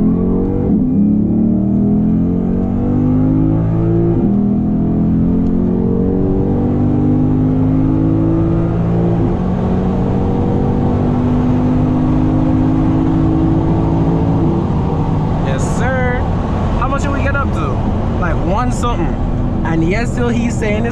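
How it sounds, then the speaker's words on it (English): A Lexus IS 500 F Sport Performance with a 5.0 V8 heard from inside the cabin, pulling hard through rising and shifting engine tones with a deep steady drone, while people talk over it. "The sound of that V8 is crazy."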